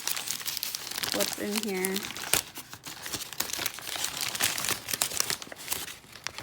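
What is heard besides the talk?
rummaging through crinkling bags of old fasteners in a box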